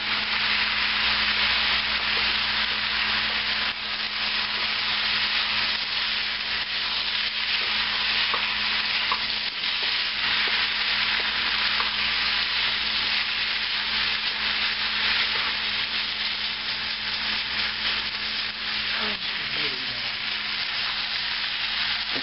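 Japanese-style fried rice stir-fries in a pan with added juice, a dense, continuous hiss and sizzle broken by a faint scrape of the utensil, close and steady throughout with no voices.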